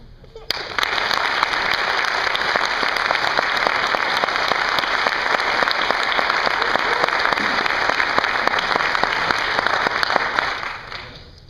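Sustained applause from a graduation audience fills the hall for about eleven seconds, steady and fairly loud from start to finish before tapering off at the very end.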